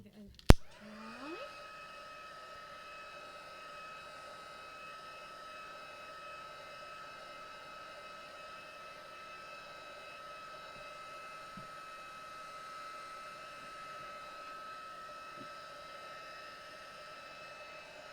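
A hair dryer blows steadily over a watercolour painting, a loud continuous close whoosh with a whining tone, switched on with a click and running throughout.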